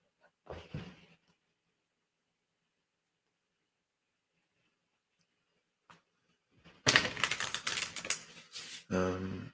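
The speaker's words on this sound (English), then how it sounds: "we'll shuffle some decks and get ready." A brief riffle of tarot cards near the start, a long quiet stretch, then a louder burst of tarot deck shuffling and snapping toward the end.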